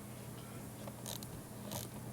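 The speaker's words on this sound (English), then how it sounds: "This little finger ratchet or thumb wrench, whatever it's called." A thumb ratchet wrench loosens a bolt during an oil change on a Dodge Grand Caravan (2001 to 2020 range): two brief, faint ratcheting bursts over a low background hum, with no talking.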